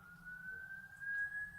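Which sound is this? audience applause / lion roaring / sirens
sirens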